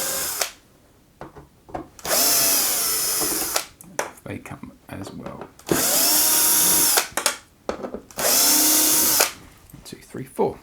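A power drill removes T8 heatsink screws from an Xbox One, three loud whirring bursts of a few seconds each, separated by pauses where someone talks.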